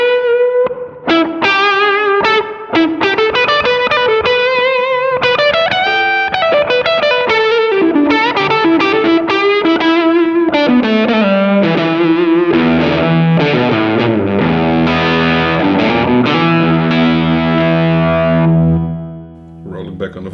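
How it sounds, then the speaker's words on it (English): Electric guitar through a JAM Pedals Fuzz Phrase Si fuzz stacked with an overdrive pedal, playing a thick, saturated phrase of sustained notes and chords that ring loudly and steadily for about twenty seconds before fading. "Now, with gain this low, I would stack it with an overdrive pedal."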